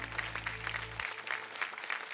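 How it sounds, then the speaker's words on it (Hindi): Applause from a studio audience at a televised Indian show, a steady dense patter of clapping that lasts the whole stretch over a low hum that stops partway through. "भाई एक बार जोरदार तालियां बरनाली के लिए"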